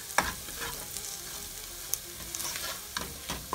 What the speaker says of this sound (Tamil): ஒரு 5 நிமிஷமாக நல்லா வதக்குங்க.